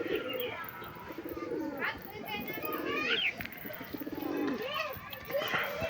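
Pigeons coo repeatedly at close range after bathing in a water bowl, soft throaty calls rising and falling over chirps and background voices.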